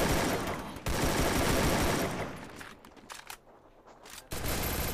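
MP40 submachine gun fire in the Free Fire video game, dense rapid bursts of automatic shots in loud, continuous strings, breaking off briefly to quieter scattered shots before a final burst resumes.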